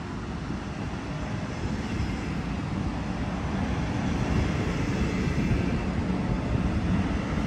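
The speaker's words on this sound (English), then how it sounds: "Comes a passenger train going in toward Hamburg." A double-deck passenger train pushed by a diesel-electric locomotive heads toward Hamburg at Hamburg-Harburg, giving a steady, fairly loud rumble and rail roar that holds throughout and swells slightly near the end.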